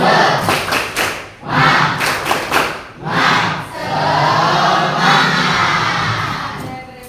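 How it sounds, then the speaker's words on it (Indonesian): A classroom of pupils performs a rhythmic spirit clap, loud group claps and thumps in quick patterned bursts, then a sustained crowd of voices shouting together near the end. "Tepuk semangat."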